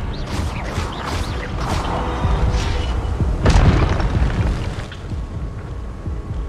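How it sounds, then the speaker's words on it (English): A spell cast in the video game Hogwarts Legacy makes a loud, dense burst of booming, crackling magic effects that swells around the middle and then settles, with no voices over it. "Expelliarmus!"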